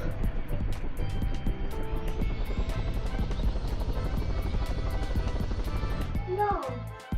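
A helicopter in a video game whirs continuously with a droning engine tone, while someone talks over it; near the end it thins out and a few synthetic tones chirp.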